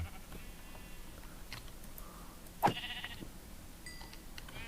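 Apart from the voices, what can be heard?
sheep bleating in Minecraft video game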